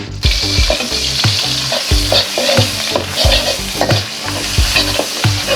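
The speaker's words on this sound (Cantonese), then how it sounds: "然之後多少油，鹹魚落去煎一煎" Salted fish sizzles and spatters loudly in a hot pan, with repeated scraping and stirring strokes throughout.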